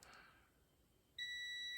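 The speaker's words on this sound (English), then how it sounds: "we don't want that reed switch to beep when there's nothing going on" A reed switch tester for a DIY slot car lap counter sets off a steady high-pitched electronic beep that starts abruptly after a quiet moment and holds on, loud and close.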